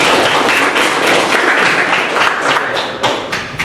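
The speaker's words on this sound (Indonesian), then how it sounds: "Tepuk tangan dulu untuk hal itu." Audience applause during a talk on democracy in Indonesia, a dense, steady wash of many clapping hands filling the room at close range and fading slightly toward the end.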